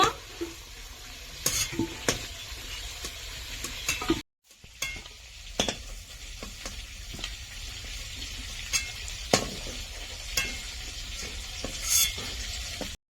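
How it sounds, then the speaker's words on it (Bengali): Chicken pieces fry lightly in a pan for a village-style chicken curry, giving a steady close sizzle with scraping stir clicks at intervals and a brief drop-out partway through. "একদম লাল লাল করে ভাজবো না, হালকা ভাজা দেব"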